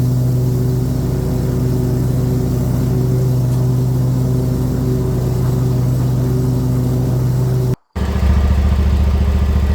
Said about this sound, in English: Nose up with the mower. This is a very steep hill.